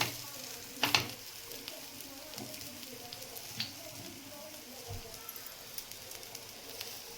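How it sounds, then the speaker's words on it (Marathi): Coriander vadas shallow-frying in oil in a Maharashtrian kitchen give off a faint, steady sizzle, broken by a few louder crackles and spits early on and scattered soft clicks later. "चांगलं तेल साईडने सोडून व्यवस्थित असे फ्राय करून घ्यायचे"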